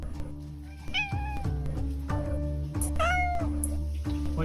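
Cats meow in the Honkai Star Rail video game, giving several clear rising-and-falling meows about a second apart over a steady low music bed.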